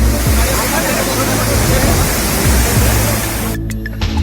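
Torrential floodwater from the Bihar-Assam floods roars in a dense, loud, continuous rush, with a voice talking faintly underneath before the sound cuts away near the end.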